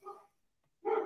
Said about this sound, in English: Wanda's barking at people walking by